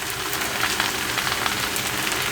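Sizzling stir-fry of Pad See Ew noodles with sugar in a hot wok, a steady dense crackle of frying with faint scraping, close and continuous without any voices.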